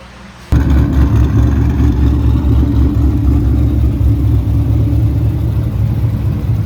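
Loud, steady engine and exhaust rumble from a Cadillac CTS-V drift car under way, heard from inside, starting abruptly and droning continuously with a deep low-end roar.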